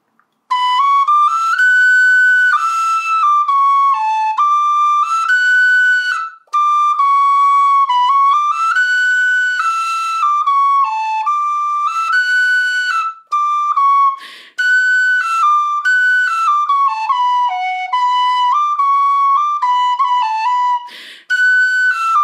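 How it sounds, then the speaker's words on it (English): A tin whistle plays the Manx tune Hush My Babe, Lie Still and Slumber as a solo, a clear, loud and bright melody of flowing phrases with short breaths between them. "I'm going to teach you a tune called Hush, My Babe, Lie Still and Slumber."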